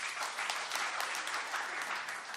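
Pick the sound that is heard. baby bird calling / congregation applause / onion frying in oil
congregation applause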